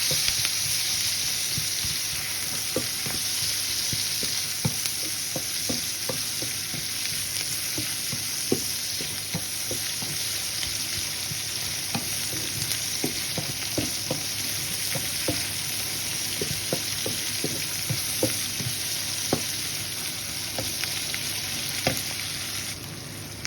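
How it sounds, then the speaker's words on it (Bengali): Onions and green chilies sauté in a pan for a fish curry, giving a continuous sizzle and fry with scattered light taps and stirring clicks, steady and close, with no talking. "পেঁয়াজ কাঁচামরিচ দিয়ে হালকা একটু সাদা করে নিলাম"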